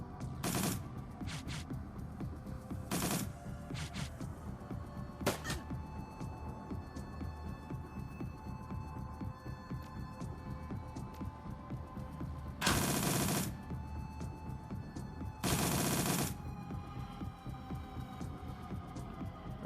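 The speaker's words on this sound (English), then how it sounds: "Blitz just take some pot shots at this guy" Gunfire in the video game Shadowrun: Dragonfall: several short, loud bursts of rapid shots stand out at intervals above a low, humming game soundscape.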